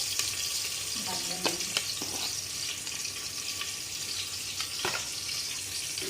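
Onions frying in a little refined oil in a pressure cooker for basmati rice pulao. A constant hiss of frying fills the clip, with a few clinks and scrapes of a spoon stirring, close and moderately loud.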